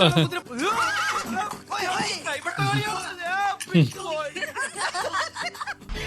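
A horse neighs and whinnies during a comedy scene from the Malayalam film Pandippada, mixed with overlapping dialogue, laughter and background music throughout.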